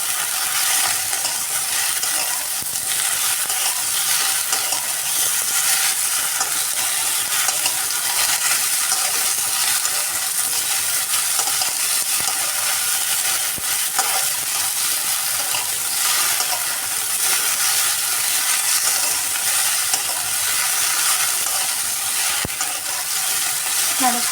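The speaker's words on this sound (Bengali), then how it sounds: "ঢ্যাঁড়সটা একটু ভাজা ভাজা হয়ে আসছে" Okra frying in a pan after a squeeze of lemon juice, with a steady, close sizzle and the scrape of a spatula stirring throughout, without a pause.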